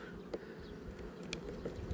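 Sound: honey bees buzzing at a beehive

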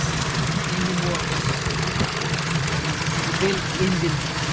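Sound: rebuilt BMW E46 engine running

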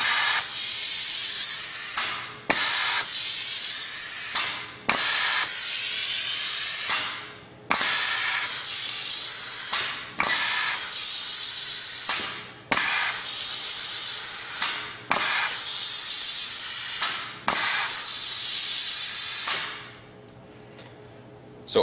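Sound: Piab vacuum gripper picking mini biscuits and slider buns

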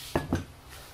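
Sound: cooking pots being handled

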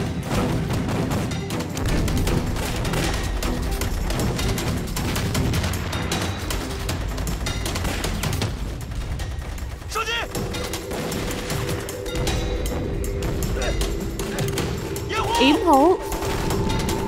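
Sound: cannon and gunfire in a war drama battle

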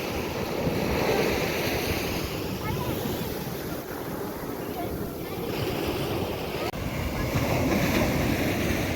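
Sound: ocean waves on beach

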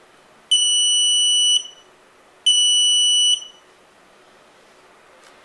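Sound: Grove kit electronic buzzer module sounding

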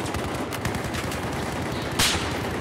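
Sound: gunfire in the video game Battlefield 4

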